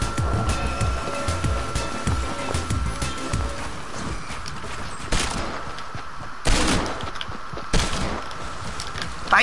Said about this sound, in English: Shooting people down.